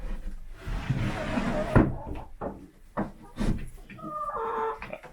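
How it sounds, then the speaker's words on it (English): A chicken coop door is shut for the night with one firm thump, and the hens shut inside give a few soft clucks and a higher call near the end. "We're going to close this door for the night."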